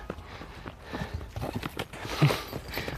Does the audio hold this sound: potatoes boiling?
no